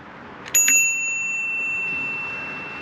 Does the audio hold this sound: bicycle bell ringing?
yes